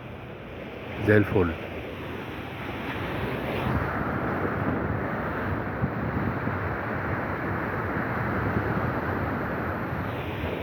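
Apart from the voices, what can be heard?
gentle sea waves and wind at Alexandria shore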